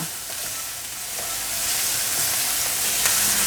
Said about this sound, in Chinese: 放入红萝卜， 继续翻炒